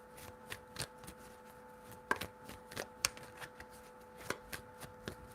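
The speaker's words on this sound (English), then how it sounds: "4 shuffles." Tarot cards being shuffled by hand in soft, quick riffling bursts with light taps and flicks, close and quiet, with no voice over them.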